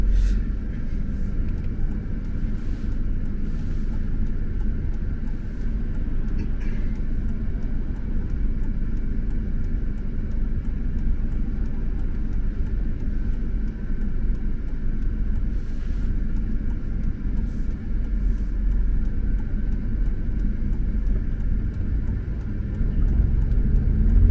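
A Ferrari 458 Italia supercar being driven, its engine a steady low rumble heard from inside the cabin, continuous and fairly loud throughout with no talk.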